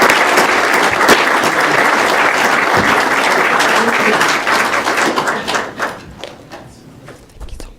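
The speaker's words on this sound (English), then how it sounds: "Let's have another round of applause for all of our finalists and our employees of the year" Loud, dense applause from the audience at a school board meeting honoring finalists and employees of the year, steady for about five seconds before thinning into scattered claps and fading out.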